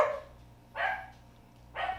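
A dog barks three times, evenly spaced and fairly faint, against a quiet indoor background with a low hum and no talking.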